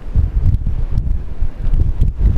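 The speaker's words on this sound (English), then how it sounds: "You can tell how windy it is because my hand's moving with the wind" Strong wind at a lighthouse in Brittany buffets the microphone in continuous loud low rumbling gusts, with no other sounds standing out.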